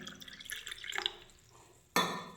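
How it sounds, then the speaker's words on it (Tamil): Water is poured into a glass of lime juice with basil seeds and nannari syrup, giving close, quiet splashing and trickling, then a brighter burst of pouring near the end. "கொஞ்சம் அதில் தண்ணி கலந்துக்கோங்க."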